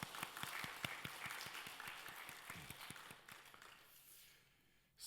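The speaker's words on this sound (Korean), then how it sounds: "우리 하나님께 감사의 박수하겠습니다." A church congregation claps in thanks during a morning worship service, distinct rapid claps at first, thinning and fading into quiet after about four seconds.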